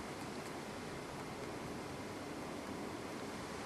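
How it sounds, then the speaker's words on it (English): A massive wind gust roars outside a hotel during Cyclone Yasi, a loud, steady rushing noise filling the whole moment without a break. "I can hear another massive wind gust coming"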